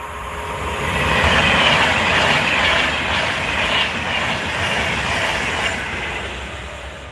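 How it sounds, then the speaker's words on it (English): A Pendolino train sweeps past on the West Coast Main Line, close and loud, its broad rushing roar swelling quickly, holding, then easing slightly as the carriages go by, with no talk over it. "Cool, that Pendolino."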